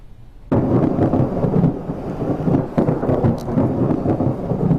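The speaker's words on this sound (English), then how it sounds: "last night severe thunderstorms passed through western Mass." Loud, close rumbling thunder from a severe thunderstorm in western Massachusetts, starting abruptly and rolling on continuously with crackling peaks, no voices.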